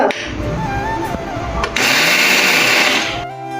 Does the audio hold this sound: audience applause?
no